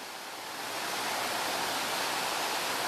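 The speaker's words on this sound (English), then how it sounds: "Mountain runoff." A mountain runoff stream rushes under a bridge in a steady, dense, broadband wash of water. It swells slightly at the start, then holds constant, with no voices.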